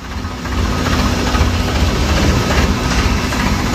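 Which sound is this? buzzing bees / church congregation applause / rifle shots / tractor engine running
tractor engine running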